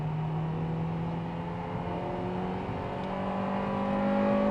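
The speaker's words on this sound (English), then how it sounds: "That's the VTEC." Acura Integra Type-S VTEC engine revving through a corner on 195 tires and 15-inch wheels, a steady droning engine note that climbs gradually in pitch, heard from inside the car with no talking.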